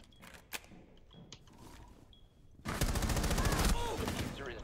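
Gunfire rattles in the Rainbow Six Siege video game, first a few scattered distant shots and clicks, then a loud sustained burst of rapid automatic fire that runs to the end, with a player's voice heard now and then.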